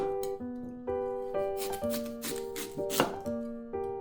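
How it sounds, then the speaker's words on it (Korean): Kitchen knife chopping peeled sweet potato into rough chunks on a cutting board, a steady series of crisp, close knocks and scrapes, with a high tonal hum running underneath. "껍질을 벗겨놓은 고구마를 듬성듬성 썰어주세요."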